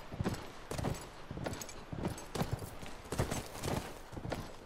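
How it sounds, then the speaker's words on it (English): Hooves of a horse in The Last of Us Remastered clop in a brisk, regular rhythm, clear and close, with groups of hoofbeats over a quiet game backdrop. "Giddy up, horsey, giddy up."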